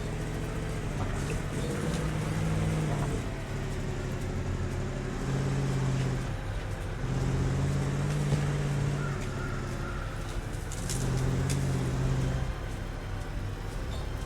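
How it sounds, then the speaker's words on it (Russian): A heavy off-road truck engine in Spintires drones steadily throughout, rising into revving surges at intervals, with a close, continuous rumble and no speech. "Звуки машины."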